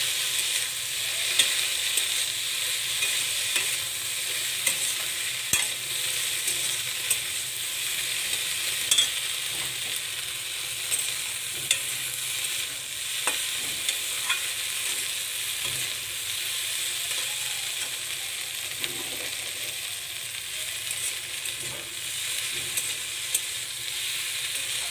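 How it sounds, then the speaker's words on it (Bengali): Okra frying in a pan while being stirred: an even, hissing sizzle runs throughout, dotted with small sharp clicks and scrapes of the utensil, close by and with no talking. "এবার একটু নেড়ে নেব।"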